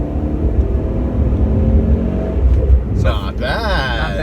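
A Saab 9-5 turbo under hard acceleration gives a steady, loud engine rumble and whir that holds throughout, with a brief vocal sound near the end.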